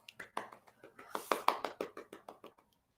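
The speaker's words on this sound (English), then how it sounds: "Our one audible applause." A short burst of clapping from a few people, uneven hand claps for about two seconds before tapering off, with a voice faintly mixed in.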